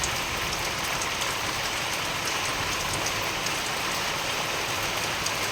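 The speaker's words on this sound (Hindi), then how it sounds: "क्या मज़ा है बारिश का" Rain falls steadily in an even, unbroken hiss with faint patters of drops, constant and close, while the sun shines at the same time.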